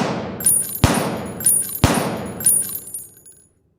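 Two crisp gunshot effects ring out about a second apart amid a trail of metallic clinks as spent bullet casings hit and bounce on the ground, near and prominent, with no voices.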